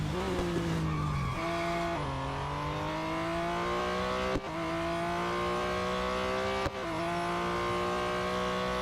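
In a BMW M Hybrid V8 racing game, race car tires squeal steadily under late braking while the engine howls and shifts pitch. Two sharp gear changes break the loud, continuous whine, with no talk.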